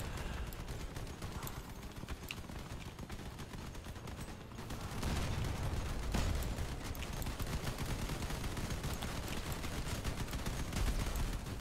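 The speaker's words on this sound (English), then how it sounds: "Not gonna lie, they're pretty strong, these shotguns." Rupture shotguns firing in the vehicle combat game Crossout, a dense, continuous barrage of blasts and combat noise that grows louder around the midpoint and stays heavy to the end.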